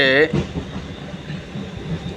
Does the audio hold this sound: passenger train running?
yes